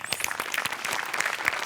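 Studio audience applause for a comedy show's art department, a steady burst of clapping at moderate loudness with no talk over it.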